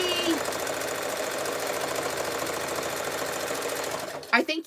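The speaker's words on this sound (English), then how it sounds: "I want to show you how close I sew to that edge." A steady, buzzing sewing machine running continuously at close range as it stitches near the edge of a jelly roll rug, ending with a brief clatter.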